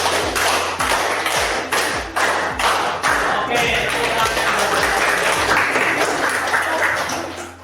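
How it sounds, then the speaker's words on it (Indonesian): A classroom of students clapping together in time, sharp claps grouped in sets of four, repeated twice, loud and close with a roomy echo. "sekarang tepuk empat dua kali"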